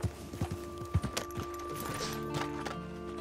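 Horse hooves clip-clop in the video game Red Dead Redemption 2, a few distinct close hoof strikes in quick succession over a faint tonal game background.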